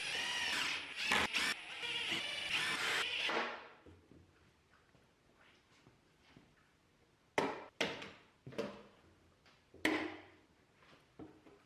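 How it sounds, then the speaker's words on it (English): A power driver buzzes in several short bursts driving screws into a wooden board, followed by scattered sharp knocks and clunks on wood and a few brief whirring pulses. "And then drove screws into the board to permanently hold it in place."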